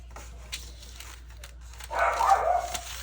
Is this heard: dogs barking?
yes